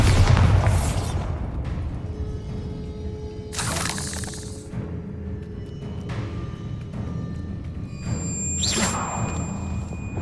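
Bombarda explosion spells in Hogwarts Legacy, a few separate sharp blasts with bursts of shattering debris between quieter rumbling stretches, fairly close and loud.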